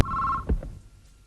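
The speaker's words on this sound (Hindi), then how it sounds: "जूली, जूली, एलेक्स का फोन है।" A telephone in a South Indian film dubbed in Hindi gives a single short, sharp electronic ring that cuts off abruptly, followed by a soft thump and then quiet.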